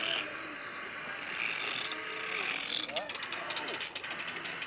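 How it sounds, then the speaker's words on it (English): Traxxas RC trucks racing in a mud bog, their small motors whining and gears grinding in a continuous buzzing drone with ratcheting bursts near the end, while a race commentator talks over it. "Grinding gears and everything."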